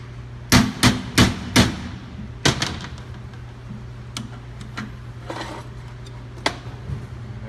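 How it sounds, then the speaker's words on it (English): A screwdriver is hammered into a GR6 transmission housing to drive out the B clutch seal: four sharp metallic strikes in quick succession, then a cluster of blows followed by lighter scattered taps, close and loud. "just jam a screwdriver in here and just pound that thing out"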